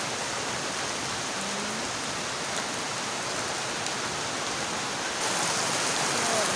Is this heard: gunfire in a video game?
no